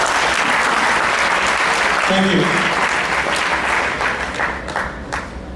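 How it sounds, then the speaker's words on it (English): A large audience at a tech community event applauds steadily for several seconds, loud and dense at first and then tapering, with a speaker's voice briefly heard over it. "I just want to have a one round of applause for all the winners from all these places."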